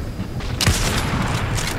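A single loud sniper shot in Fortnite cracks out partway through, followed by a noisy rumbling tail and game ambience.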